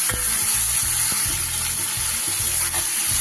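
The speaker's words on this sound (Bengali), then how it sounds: "পেঁয়াজগুলো যতক্ষণ না সোনালি রং আসছে ততক্ষণ আমি ভালো করে ভেজে নেব।" Chopped onions fry loudly in oil with bay leaf, four cardamoms, four cloves and two pieces of cinnamon for a Bengali mutton curry, producing a constant close hiss over a low, uneven rumble, with no talking.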